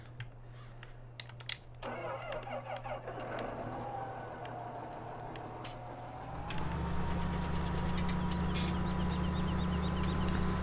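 A large tractor in the Farming Simulator 17 video game starts up and settles into a loud, steady idle and rumble, with a faint whine layered on top and some clicks and bird chirps earlier.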